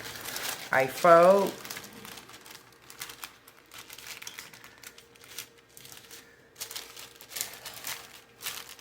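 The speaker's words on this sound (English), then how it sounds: "Put them on a parchment paper, then I fold." Parchment paper crinkles and rustles as it is folded over sausages, with a brief burst of crumpling early on followed by scattered softer crinkles, and a person speaks briefly at the start.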